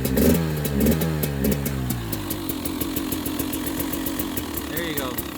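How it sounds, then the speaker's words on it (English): A 2020 KTM 300 XC TPI two-stroke dirt bike idles close by with a rapid, crackling putter, then its revs rise and fall in brief blips. "Give it a little rev."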